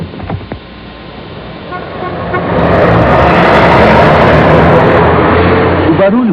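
City traffic swells into a loud, dense roar with car horns tooting amid passing vehicles, close and continuous, ending with a short horn blast.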